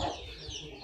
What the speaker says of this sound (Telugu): సహజ సిద్ధంగా పెరిగే కోళ్ళు దానా ఉండదు, ఏమీ ఉండదు.